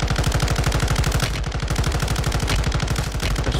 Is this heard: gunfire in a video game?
yes